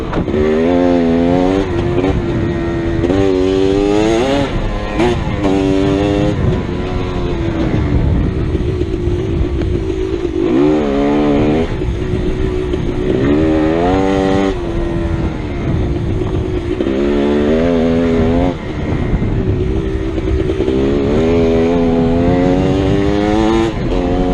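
GasGas EC300 two-stroke dirt bike ridden on a trail, engine revving up and down in repeated bursts with rising and falling pitch, loud and close throughout.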